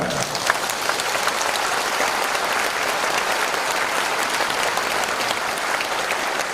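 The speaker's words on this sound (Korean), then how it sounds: "we should give you a great round of applause because you care about that question" Conference audience breaks into applause, a dense, steady wash of many hands clapping that fills the whole stretch at an even, fairly loud level with no talking.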